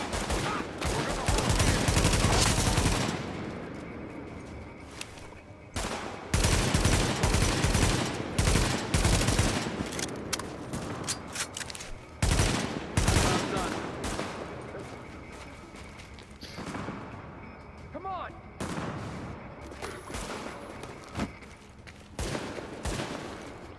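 Gunfire in The Division video game: loud bursts and rapid volleys of shots come in clusters across the scene, with quieter gaps and game sounds between them.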